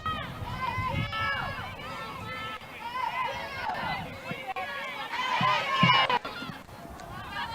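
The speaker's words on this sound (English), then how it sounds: "Crowd chanting, getting into it." A crowd chants in the stands at a college women's soccer match, BGSU against Cincinnati; many voices rise and fall together at moderate distance, with a nearer voice talking over them.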